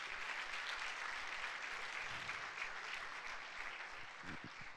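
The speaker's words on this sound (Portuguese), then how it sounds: "Quem recebe, dê um aplauso ao Senhor Jesus" A church congregation applauding together at a pastors' gathering, dense sustained clapping heard from a moderate distance, steady throughout with no voices over it.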